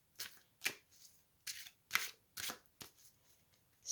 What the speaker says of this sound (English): So let's shuffle and see.